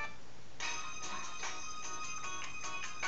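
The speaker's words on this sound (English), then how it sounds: "You know how many people have this ringtone?" A phone ringtone plays alone as a repeating electronic melody, steady and moderately close, with no talk over it.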